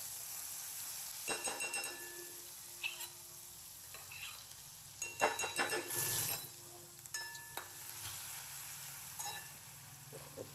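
Asafoetida, turmeric, ground spices, ginger, chilli and garlic hit hot oil while cooking chole, giving a soft steady sizzle broken by clinks of a spoon stirring against the pan.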